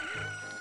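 A cucco chicken in Zelda: Ocarina of Time gives a brief, loud synthetic cluck over a steady game tone, a single clipped squawk lasting well under a second.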